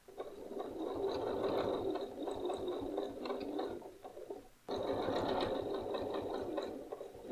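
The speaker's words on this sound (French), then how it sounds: "Personnellement, je vais coudre à 1 cm du bord" A sewing machine runs steadily, stitching a seam on a beach pareo, in two continuous bursts with a brief pause between them, close and alone with no talking.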